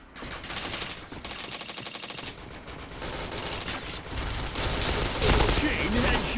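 Rapid gunfire from a shooter video game, dense bursts of shots with a fast rattling rhythm running continuously and loudly, mixed with game sound effects and a voice talking over it.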